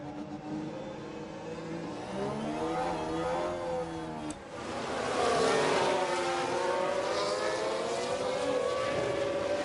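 Formula 1 cars racing in F1 Manager 23, engines whining and rising in pitch as they accelerate, with a louder, fuller roar after a brief dip midway, continuous and fairly close.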